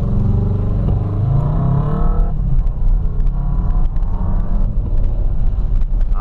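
A 1.8 R Fiat Palio engine revs hard under acceleration, a loud, steady rumble with rising pitch in the first couple of seconds, then holds a rough, clattering drone close by.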